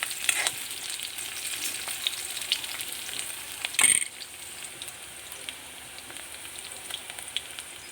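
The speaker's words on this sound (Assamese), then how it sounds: "অকণমান ৰঙা হোৱালৈ মই ভাজি থাকিম।" Two bay leaves fry in hot oil in a pan for a rajma dish, a soft, steady sizzle with faint stirring clicks and one sharper scrape partway through, no talking.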